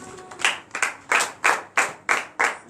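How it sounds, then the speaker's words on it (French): A congregation at a morning prayer service claps in a slow, regular beat acclaiming Jesus, about seven crisp unison hand-claps evenly spaced, moderately loud in a reverberant room. "donnez de vive acclamation à notre Seigneur Jésus"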